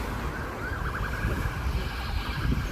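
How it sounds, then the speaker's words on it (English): A wailing ambulance siren sounding steadily through heavy, rumbling wind noise, moderately loud and continuous. "There's a lot of ambulances."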